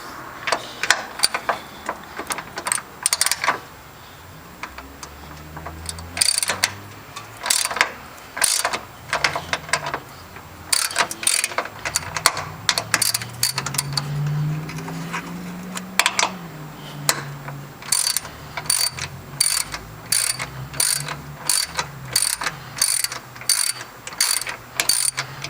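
A ratchet loosens a brace bolt on a Dodge Challenger 392, close up: rapid clicking bursts repeat in uneven spurts throughout, with short pauses between strokes and no talking.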